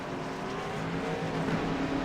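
Race cars rumble along pit road during a pit stop, a steady loud engine drone with slight rising tones, no talk over it.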